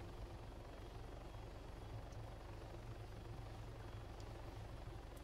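A Hummingbird helicopter in Arma 3 gives a steady, loud rotor thrum and whining engine drone that holds constant throughout, close and continuous, with no talk.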